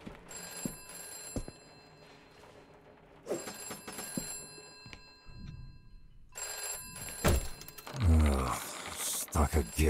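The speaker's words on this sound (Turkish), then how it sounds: "Aptal telefon." Telephone ringing in the video game Fallen Aces, repeated bursts of a bright bell-like ring separated by pauses, with game sounds and a voice talking in between.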